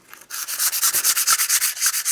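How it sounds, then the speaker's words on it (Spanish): Rapid, rhythmic back-and-forth scraping of sandpaper on a plaster panel, close and loud, about eight strokes per second after a brief quiet start. "Lijamos el cuadro"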